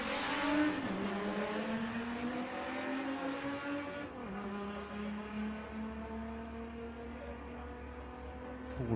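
Volkswagen drag race cars tearing down the strip at Santa Pod Raceway, a steady loud engine drone with rising and shifting pitch as they accelerate, no talk over it.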